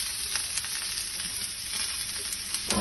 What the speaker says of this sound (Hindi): ये हम ग्रिल कर रहे हैं